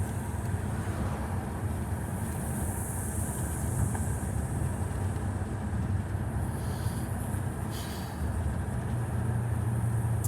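A BMW 750iL E38 with a V12 engine driving along, a steady low road and engine rumble with broadband wind and tyre noise, continuous and fairly loud inside the car, no talking.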